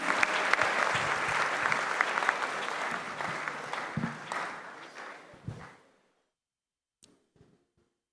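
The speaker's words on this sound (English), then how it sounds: "Please, with a round of applause, let's welcome Miss Nora." A crowd applauds to welcome a spoken word performer, loud sustained clapping that gradually thins and fades to silence after about six seconds, with a few faint stray sounds afterward.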